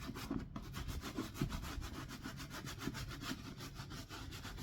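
Scrubbing soap into the coated canvas of a vintage Louis Vuitton Speedy 30 handbag, a steady, close rasping rub repeating in quick back-and-forth strokes with no talking.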